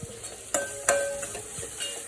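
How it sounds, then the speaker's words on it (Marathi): Spices and salt frying in oil in a pan for a Maharashtrian dried-shrimp (jawla) dish, a soft steady sizzle broken by a few sharp stirring scrapes of the spoon, close and alone. "तर इथे सगळे मसाले छानपैकी परतून झालेले आहे. तुम्ही बघू शकता मस्तपैकी तेल सुटतंय याला."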